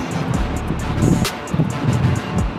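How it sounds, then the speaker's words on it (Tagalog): Gusty wind rumbles and buffets outdoors at Taipei Main Station, a low roaring wash with occasional brief clicks, no one speaking. "Medyo mahangin dito sa labas."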